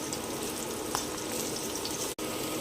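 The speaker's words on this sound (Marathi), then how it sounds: "त्यानंतर लगेच कांदा टाकायचा आहे। हे सगळं परतून घ्यायचं।" Onion and cumin seeds sautéing in hot oil, cooking Indian-style shimla mirch (capsicum), give a steady close sizzle with a brief pop near one second and a short drop-out near the end.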